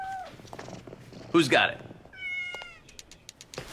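A cat meows clearly at close range, including one loud, drawn-out cry, with softer mewing and a faint purr between the calls, while a person speaks briefly.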